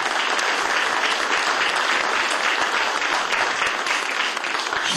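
Audience applause at a Romanian folk music event, dense sustained clapping from a large crowd filling the whole stretch at steady loudness.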